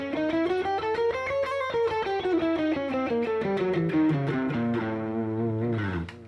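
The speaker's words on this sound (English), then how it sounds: "the go-to scale that you would use against these would be diminished half whole" A guitar runs through the diminished half-whole scale, a rapid line of single notes rising then falling back down over several seconds, with a distorted, effected tone, played close and alone.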